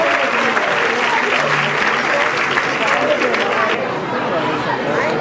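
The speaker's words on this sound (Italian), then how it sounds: "Applauso del pubblico di Mogliano." Crowd applause from spectators at an Italian national football match in Mogliano, a dense steady wash of clapping with cheering and chatter mixed in, loud and sustained throughout.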